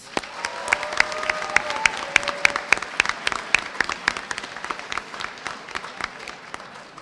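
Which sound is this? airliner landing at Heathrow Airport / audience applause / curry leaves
audience applause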